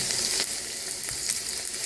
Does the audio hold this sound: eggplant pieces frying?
yes